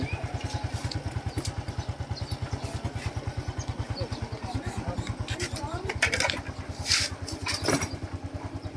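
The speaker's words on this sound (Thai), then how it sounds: "นี่มาแล้วมอเตอร์ไซค์คู่ใจ" A motorcycle idling close by with a rapid, even low putter, while people talk over it and a few clattering knocks near the end.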